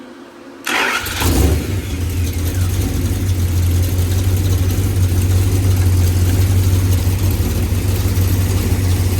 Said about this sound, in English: I think it'll make a good sounding truck engine.